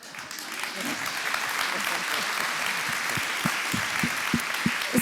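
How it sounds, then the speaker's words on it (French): Applause from a French conference audience on positive parenting swells and continues under a speaking voice, with a few sharper claps close by near the end. "Il a demandé des applaudissements."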